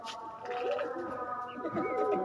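Pigeons coo softly and repeatedly close by, a brief burst of throaty warbling calls.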